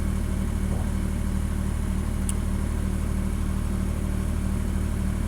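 Ford tractor engine pulling in low gear, two-wheel drive low range at about 1500 RPM, a loud steady drone with constant strain and no pauses.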